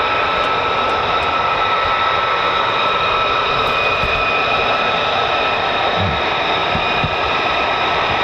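An F-35C fighter jet at RAF Lakenheath gives a loud, steady engine roar with a sustained high whine, continuous and close for the whole stretch, with no talk over it.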